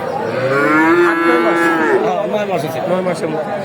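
A cow lets out a long, loud moo close by at the Talgachhi cattle market in Sirajganj, followed by rougher lowing, with faint crowd murmur in the background.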